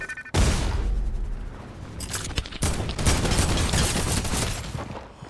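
Sustained, loud gunfire from a gun in Fortnite, dense rapid bursts running almost continuously, with brief gaps between a few volleys.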